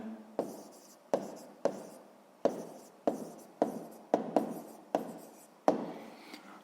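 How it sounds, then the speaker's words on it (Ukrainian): Pen strokes of a student writing a math answer by hand on paper, heard as a series of about ten distinct scratchy bursts, each starting sharply and trailing off, close and fairly quiet with no voices. "записуємо відповідь"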